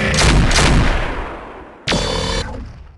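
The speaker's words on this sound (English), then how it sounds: "Shang opens fire with his autocannon and nearly takes off Legend Killer's left arm," Loud autocannon bursts from a BattleTech mech battle between a Yen-Lo-Wang and a Legend Killer: a heavy opening volley that fades, then a sharp second burst at close range, with no voices.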